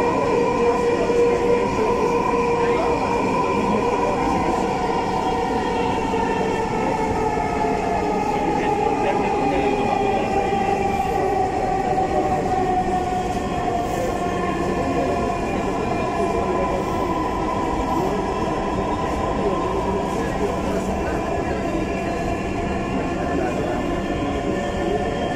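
A Dhaka metro train riding between Uttara and Shahbag, heard from inside the car: a continuous smooth running hum with rising and falling motor whine, steady and moderately loud throughout, with no talking.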